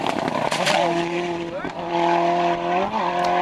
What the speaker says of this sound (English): Indeed, on Swinton, the little Toyota is taking off.